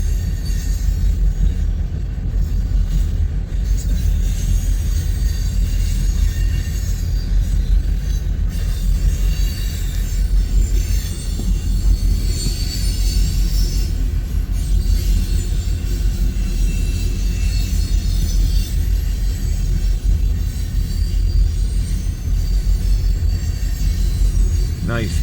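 An eastbound coal freight train carrying loaded hoppers rolls steadily past, a loud continuous rumble and clatter of wagons with faint wheel squeal, holding its level for the whole stretch without a break.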